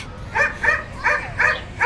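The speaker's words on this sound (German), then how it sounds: "hebt den Hund fest!" A dog barks and yelps in quick repeated bursts, four or five high-pitched whimpering barks in under two seconds, close and fairly loud with no talk over it.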